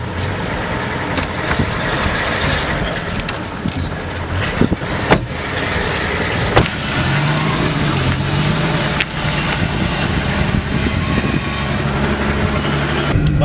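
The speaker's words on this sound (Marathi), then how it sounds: "मी गाडी चालवतो" A car engine hums steadily while driving, with continuous road and wind noise and a few sharp knocks and clatters over the drone; no one speaks.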